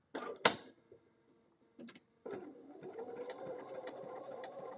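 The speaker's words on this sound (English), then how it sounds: "Let's just go back to ground zero and try stitching with an ender and a starter." A sewing machine stitches a quilt piece using an ender and starter: short bursts and clicks at first, then a steady close mechanical whirr of running stitches.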